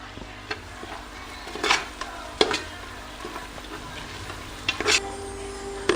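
Vegetable pulao ingredients fry in a pan on low gas: a soft, steady sizzle is broken by irregular scraping clicks and taps as a spoon stirs against the metal, close by with no talk.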